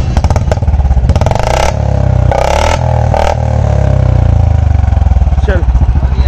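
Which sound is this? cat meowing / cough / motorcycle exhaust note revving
motorcycle exhaust note revving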